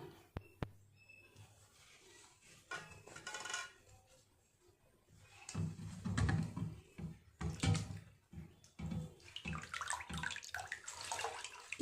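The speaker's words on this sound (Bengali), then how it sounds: "আরও একটু জল দিয়ে ধুয়ে নেব" Water splashes and runs intermittently while chhana, fresh cottage cheese, is rinsed by hand, with gurgling pours, clinks and a louder stretch of rushing water midway.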